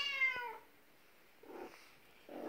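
An indoor house cat watching birds lets out one short, clear meow, then soft faint rustling follows in a quiet room with no talking.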